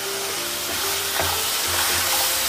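Whole spices, red chilli and coriander powder frying in oil for a chicken curry, a steady close sizzle with scraping stirs, no talk.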